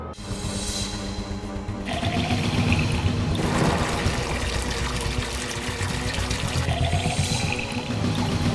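Water pours steadily into a bottle with a continuous rushing, gurgling flow, the pitch shifting slightly as it fills; the pouring continues throughout.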